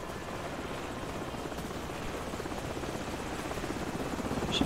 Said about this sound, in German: Schon wieder ein Heli.